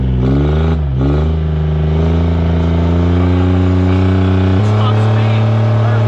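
A small 3-cylinder outboard-type boat engine running loud and close on Lake Havasu, steady rumbling drone with a brief dip in revs near the start and a pitch shift later.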